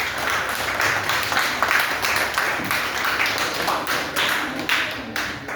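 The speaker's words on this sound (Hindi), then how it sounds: "शाबाश बेटा, ताली बजाओ इनके लिए।" An audience of students in a classroom gives a short round of applause for a fellow student, a brief burst of scattered clapping close by.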